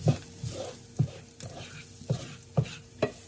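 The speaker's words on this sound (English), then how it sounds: "what I'm doing here is ballooning the spices in oil" Spices ballooning in hot oil, a sizzling bed punctuated by rhythmic stirring scrapes about every half second, close and moderately loud.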